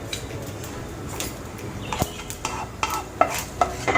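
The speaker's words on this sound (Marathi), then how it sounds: "तर आपण त्याच्यामध्ये खडा हिंग आणि हिंगाची पावडर हे आपण परतून घेतो आहे" Lumps and powder of asafoetida are stir-fried in a pan for a Khandeshi raw mango pickle, giving soft scraping with sharp spoon-on-pan clinks that grow more frequent toward the end, close and fairly quiet.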